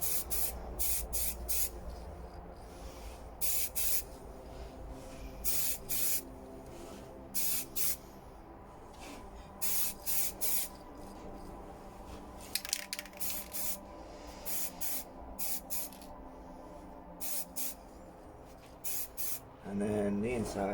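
Short bursts of aerosol spray paint hiss repeatedly as a light first colour coat goes onto a scale RC Volvo truck's air intake, close and loud between quiet pauses.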